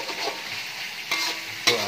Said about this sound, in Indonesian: aduk-aduk terus biar bumbunya meresap merata seperti ini